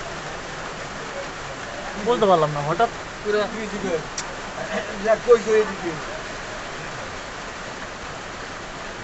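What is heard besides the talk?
rain falling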